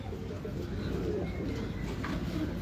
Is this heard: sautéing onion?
no